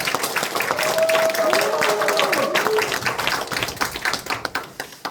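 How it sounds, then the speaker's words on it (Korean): Audience applause welcoming a speaker at a committee launch ceremony, a dense wash of clapping with a few voices calling out, thinning into scattered individual claps toward the end. "그럼 여러분들 큰 박수로 모시겠습니다"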